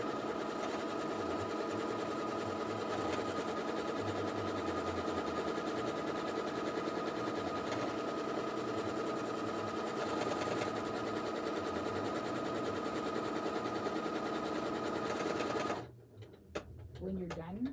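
A sewing machine that costs about $450 runs its buttonhole stitch as a steady, close mechanical whir. The whir goes without a break for about fifteen seconds and then stops when the buttonhole is finished.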